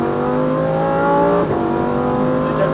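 Lamborghini Huracan STO accelerating hard on a race track, a loud close engine wail with rising harmonic pitch, a brief shift dip midway, then climbing again.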